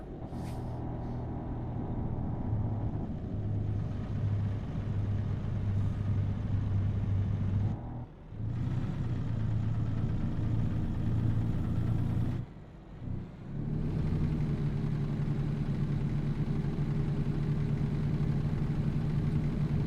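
Cummins diesel truck engine in American Truck Simulator, a steady, loud, close rumbling drone with strong low harmonics that briefly cuts out twice, as if between gear shifts, before resuming.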